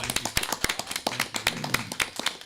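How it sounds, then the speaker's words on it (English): A small group clapping for festival organizers at a city council meeting, with sparse, distinct claps close to the microphone in an uneven patter lasting a couple of seconds. "all three of them deserve a good hand of applause"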